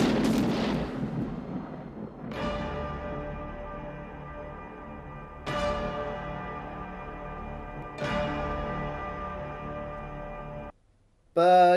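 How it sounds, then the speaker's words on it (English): Gunshots ring out in a police chase scene from the film Blood In Blood Out: four loud, sharp blasts a few seconds apart, each trailing a long metallic ringing decay, then a brief near-silence. "as he's running, you hear the gunshots go off"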